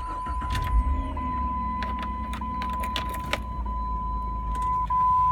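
A 2000 Jeep Grand Cherokee Laredo engine idles steadily close by, a constant hum with a sustained tone, broken by a few short clicks and rattles, no talking.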